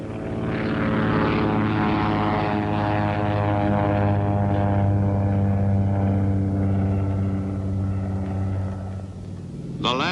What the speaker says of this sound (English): Once a pilot was given a come ahead, he didn't waste any time getting himself and his plane back onto the flight deck.